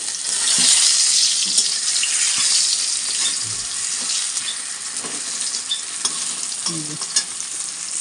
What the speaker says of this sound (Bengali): এখানে হচ্ছে গরম গরম বেগুন ভাজা দাঁড়াও উল্টে নিই নাহলে পুড়ে যাবে